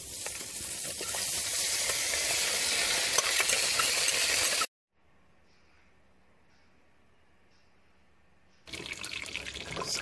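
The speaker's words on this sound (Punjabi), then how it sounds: "ਸਭ ਤੋਂ ਪਹਿਲਾਂ ਕੜਾਹੀ ਦੇ ਵਿੱਚ ਆਪਾਂ ਆਪਣਾ ਦੇਸੀ ਘਿਓ ਪਾਵਾਂਗੇ।" Desi ghee heats and is stirred in a kadhai for atta ladoo, a loud steady sizzling hiss that cuts off into a quiet pause with faint background hum before the sizzling resumes.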